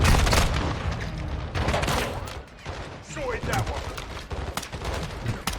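Gunfire in the Call of Duty Modern Warfare 2 video game: rapid bursts and sharp single shots crackle throughout, mixed with booms, while a player speaks over the action.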